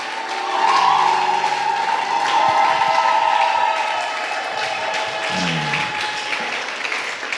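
A church congregation applauds to acclaim God, a dense, loud wash of clapping that swells early and holds steady for several seconds before easing a little, with a sustained voice or tone running under it.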